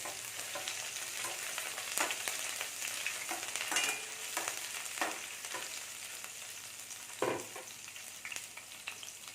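Garlic and green chilli fry gently over a low flame, a steady close sizzle with scattered pops and occasional spoon scrapes against the pan.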